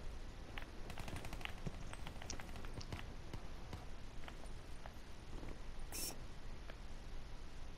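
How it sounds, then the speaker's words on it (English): Rapid gunfire bursts in a first-person video game, sharp repeated shots with crackling impacts over a dense, busy battle backdrop, fairly close and loud throughout. "can you run any closer to a firing gun?"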